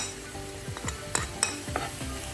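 Spices and chicken fry in oil, a steady sizzle broken by a few sharp scrapes and knocks of a spoon stirring the pan, close and clear, with no speech.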